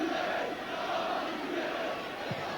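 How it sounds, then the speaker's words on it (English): A Nottingham Forest football crowd against Liverpool roars and chants steadily throughout a 1984 league match, a dense distant stadium wash of many voices with no clear single speaker. "It's never the most demonstrative of crowds, this Forest crowd, but they sense that it may not all be lost."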